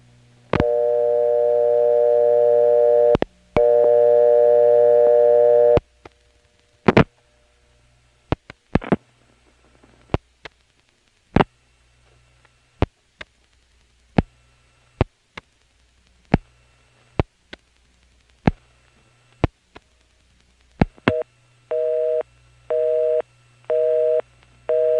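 Telephone tones from a No. 1 ESS electronic exchange: two long steady tones, then a string of sharp switching clicks, and finally a run of short, evenly pulsed tone bursts, all clear and loud on the line.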